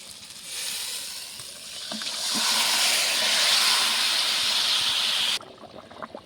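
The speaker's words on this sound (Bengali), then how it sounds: "ঝোল তো ভালোভাবে ফুটে গেছে" Thin fish curry broth with boiled potatoes bubbles hard in a pot, a loud steady hissing seethe that swells and then cuts off abruptly just before the end.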